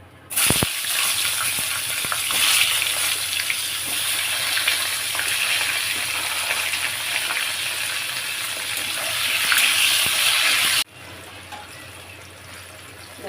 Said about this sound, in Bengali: কড়াই তেল আছে এর মধ্যেই আমি বেগুনটা হালকা করে একটু ভেজে নেবো